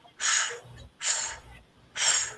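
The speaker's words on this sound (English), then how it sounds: "I'm breathing fresh, energetic breath in. I'm blowing." Three strong, forceful breaths are heard up close as part of a voice exercise for Parkinson's and stroke recovery, each a sharp rush of air about a second apart, separated by brief quiet.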